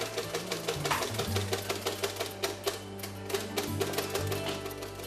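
An electronic Braille printer, converted from a mechanical Braille typewriter, clatters in a rapid, steady series of mechanical strikes over a low motor hum, close and continuous.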